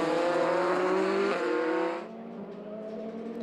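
Race cars roaring steadily along a circuit during a race, engine notes sustained and loud at first, then dropping to a lower, quieter drone as the cars pull away.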